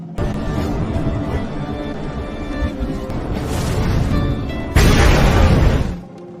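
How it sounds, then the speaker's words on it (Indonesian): A gas station blows up in a zombie film, a heavy roaring blast bursting in loud and broadband over a rumbling scene, holding for about a second before dropping away. "zombie menyalakan korek api dan membuat pom bensin di sana meledak"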